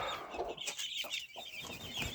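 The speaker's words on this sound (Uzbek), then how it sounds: "jo'jalar" Chicks clucking close by, several birds overlapping in a busy, continuous stream of short calls with no talking.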